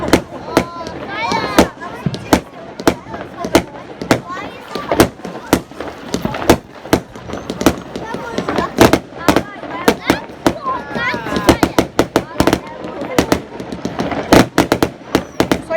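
Fireworks and firecrackers burst repeatedly on Bonfire Night, sharp loud cracks and bangs in irregular clusters, some rapid and overlapping, with people talking faintly in between.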